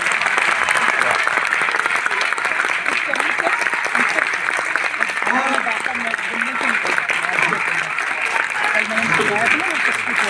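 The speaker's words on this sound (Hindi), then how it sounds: "न आहा न वाह न ही तालियां बजा रहे हो" An audience at a poetry performance breaks into sustained, loud applause, with voices and cheers mixed into the clapping throughout.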